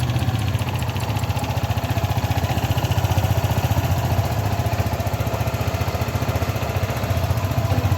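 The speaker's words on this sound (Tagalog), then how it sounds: "Ayan, running na ulit." A Euro Griffin 180 motorcycle engine runs at a steady idle after a fuel pump repair, a loud, close, even rhythmic putter with fast regular pulses and no talking.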